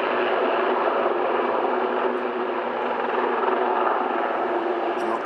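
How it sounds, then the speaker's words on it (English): A helicopter landing gives off a steady, loud, close rotor and engine roar that stays even throughout with no pauses. "Looks pretty cool, the chopper landing."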